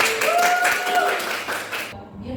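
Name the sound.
children applauding after a game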